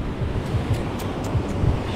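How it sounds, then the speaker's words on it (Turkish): Ocean waves break at Uluwatu beach in Bali as a continuous, close, roaring wash of surf, with wind buffeting the microphone throughout and no voices. "Resmen dalgaların sesini yaşayarak şu an var ya"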